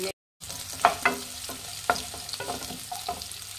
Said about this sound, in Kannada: ಈರುಳ್ಳಿ ಒಂದು ಸ್ವಲ್ಪ ಫ್ರೈ ಮಾಡಬೇಕಾಗುತ್ತೆ